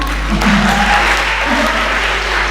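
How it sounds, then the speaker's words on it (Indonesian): An audience of students at a campus discussion on permits and public services claps steadily, a continuous spread of applause in a room with a strong low hum underneath. "Ya, tepuk tangan untuk yang bertahan."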